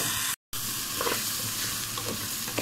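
Rice grains frying in a pot, a steady bright sizzle with soft stirring scrapes and a brief silent gap near the start.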